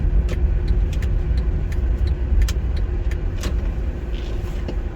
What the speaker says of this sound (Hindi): आज ट्रैफिक जो है वो यहाँ पर बिल्कुल बहुत कम है